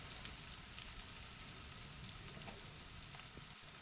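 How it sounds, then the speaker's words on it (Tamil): Finely chopped onions frying in oil in a pan for fish curry, a quiet, steady sizzle with faint crackles, heard close and alone. "பொடி பொடியாக அறுத்து வச்சுருக்க 1 கப்பு வெங்காயத்தை நான் இதோடு சேர்த்துக்கிறேன்"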